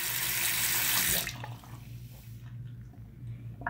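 A sink tap runs in a hotel room, a loud steady gush of water that stops abruptly after about a second, leaving faint drips and a low background hum.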